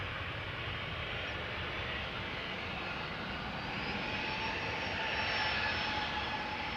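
Jet airliner turning at the southern threshold of a runway at Amsterdam Schiphol Airport, a steady broad engine roar swelling slightly louder toward the end, heard from a distance with no talk.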